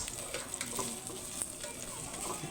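Red bell pepper being stirred in a frying pan while cooking ginataang alimango, a soft steady sizzle broken by light, repeated spatula scrapes and taps.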